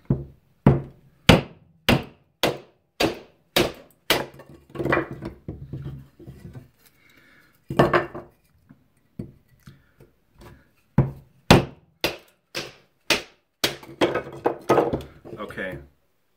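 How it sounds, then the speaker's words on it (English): Steel Will Druid 215 knife with a saber grind batoning through wood, a series of sharp, evenly spaced knocks up close, then a pause with faint rustling and a second burst of strikes. "Do some batoning."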